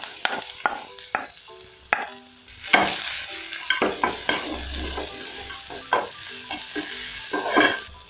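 Onions frying in hot cooking oil for a mbuzi wet fry, a continuous sizzle broken by repeated sharp scrapes and taps of a spoon against the pan, close up with no talk.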